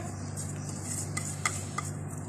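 Homemade khoya for halwai-style aflatoon halwa goes into a pan and is stirred with a spoon, giving a soft, steady scraping and a few light metallic clinks against the pan, close and quiet.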